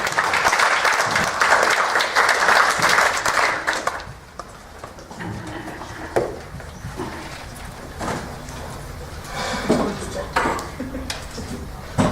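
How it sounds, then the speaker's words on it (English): Audience applause fills a theatre at first, then fades into scattered claps and rustling, with a voice speaking amid the dying noise. "Please give me a round of applause"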